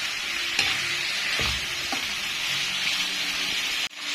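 Kangkong adobo frying in a pan keeps up a steady, close sizzle, with a few sharp scrapes and clacks of a utensil as it is stirred, ending in a brief dip near the end.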